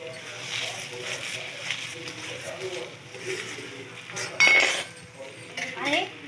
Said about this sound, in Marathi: ड्रायफ्रूट हे टाकून घ्या आणि मस्त मिक्स करून घेऊया आपण